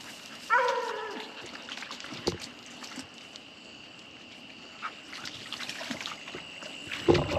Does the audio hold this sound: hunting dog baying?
yes